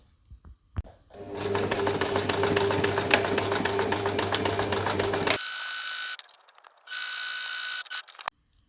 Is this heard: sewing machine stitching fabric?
yes